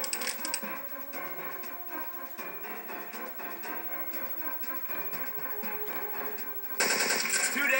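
Gunfire in the video game Syphon Filter 3, rapid automatic shots rattling continuously over game music, with a louder burst near the end.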